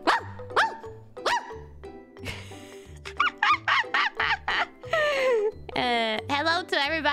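A dog barks repeatedly in short, loud bursts at close range, mixed with squeaky honking, bird-like toy or animal sounds, over a steady rhythmic background.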